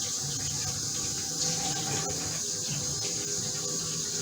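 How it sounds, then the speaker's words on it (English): A kitchen tap runs steadily for hand washing between canning steps for a seasoned whole turkey, a continuous close hiss of flowing water with no talk. "Let me wash my hands real quick."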